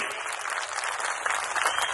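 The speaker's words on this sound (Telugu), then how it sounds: "మీరు కూడా గట్టిగా చప్పట్లు కొట్టి ఆశీర్వదించమని" An audience claps at a Maha Shivaratri Rudrabhishekam puja, a dense, steady burst of applause from many hands, close and continuous for two seconds.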